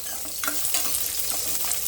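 Small onions sizzle steadily in hot oil for fish curry, with occasional stirring scrapes in the pan; close and continuous, no voices.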